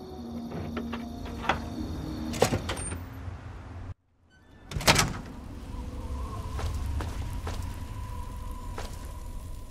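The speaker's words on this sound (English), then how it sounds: "Unlocking outer doors." Fallout 3's heavy outer doors unlock and slide open with mechanical clanks, whirring motors and a sharp metallic bang after a brief pause, followed by a steady rumbling hum, all without speech.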